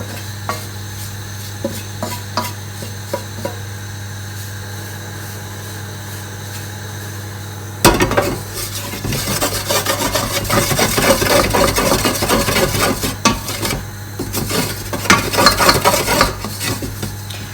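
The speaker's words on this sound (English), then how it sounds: "you're going to stir around the flour for like 2 minutes and you can't stop mixing it" Flour being stirred in a pan for a béchamel: quiet near-silence breaks into steady scraping and clinking of a utensil against the pan, continuous and close with a few louder knocks.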